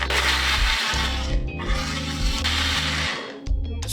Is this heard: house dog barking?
no